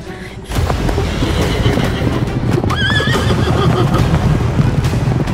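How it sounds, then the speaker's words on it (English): Several large horses whinny and gallop nearby, a loud continuous drum of hooves with a sharp high neigh rising partway through, after a brief quieter start. "Suddenly, three giant horses to our right took off, charging directly towards us at full speed."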